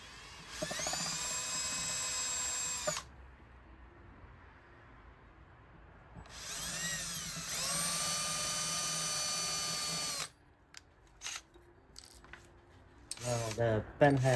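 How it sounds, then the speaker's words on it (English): A power drill pre-drills holes in ash wood while a rattan chair is repaired. It gives two sustained high whining bursts with quieter gaps between them, then a few short clattering handling noises at the end. "I'm going to pre-drill a little bit"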